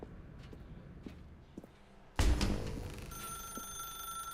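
Old-fashioned telephone ringing in The Stanley Parable, a sudden bright bell burst with sustained metallic overtones that follows quieter footsteps in a dim room and keeps ringing steadily to the end.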